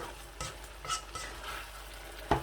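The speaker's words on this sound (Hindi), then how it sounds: "पहले तकरीबन 5 से 7 मिनट तक तेज़ आंच पे मैं भूनूँगा" Minced meat with peas fries on high heat as a utensil stirs it in the pan, with a few scraping strokes over a light sizzle and one sharper knock near the end.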